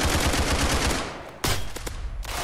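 Rapid automatic gunfire from a drive-by in the Roblox game Criminality, a dense loud burst that briefly breaks off, then resumes with a few sharp separate shots.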